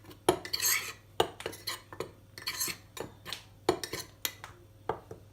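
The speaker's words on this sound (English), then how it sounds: "And you add your cocoa powder, which is 2 tablespoons. Give it a nice mix." A spoon clinks and scrapes against a ceramic mug while stirring cocoa powder for a mug cake, producing a run of sharp, close metallic taps in an irregular rhythm with no talking.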